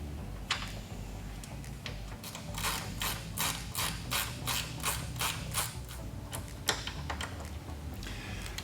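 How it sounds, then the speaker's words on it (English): A 10mm wrench ratchets off a ground nut on a Jeep JL fender, producing a steady run of close, rapid metallic clicks in bursts over a low background hum. "We use a 10mm wrench and remove one of these ground nuts that I found on the fender."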